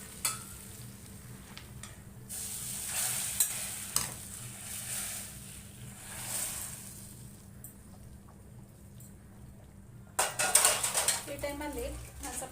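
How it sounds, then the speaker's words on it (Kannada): Tempering is poured into boiling chickpea sambar and sizzles loudly in bursts. Pot and utensil clinks and stirring come through between the sizzles, and a brief rustling clatter is heard near the end. "ಈ ಸಾಂಬಾರು ಕುದಿತಾ ಇದೆಯಲ್ಲ, ಇದಕ್ಕೆ ಒಗ್ಗರಣೆ ಇದು ಸೇರಿಸ್ಕೊಳ್ಳೋಣ."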